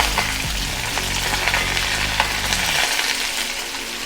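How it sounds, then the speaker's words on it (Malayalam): Mustard seeds and dried red chillies crackle and sizzle in hot oil in a home kitchen pan, a steady loud frying hiss with scattered pops and a few clinks of a spoon, no voices. "ഇതിലേക്ക് കടുക് പൊട്ടിക്കഴിഞ്ഞു. ഇതിലേക്ക് ഞാനൊരു 3 മുളക് ഇടുകയാണ്."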